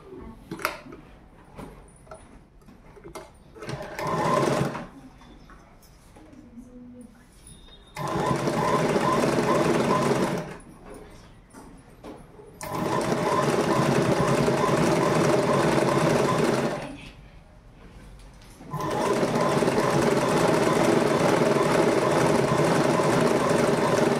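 A sewing machine stitches a hem on a uniform nicker in several loud, steady whirring runs of a few seconds each, separated by quieter pauses with faint handling sounds.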